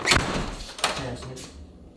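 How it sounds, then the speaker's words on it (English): A door in a home swung shut and locked, with a couple of solid thunks and a latch-like knock close by, a voice briefly heard around it. "Somebody gotta lock the door."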